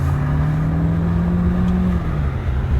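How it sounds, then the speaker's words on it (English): A Hyundai Sonata in sport mode accelerating on the road, its engine drone heard from inside the car, rising steadily in pitch before easing slightly near the end, loud and continuous with no talk. "driving the Hyundai Sonata in sports mode"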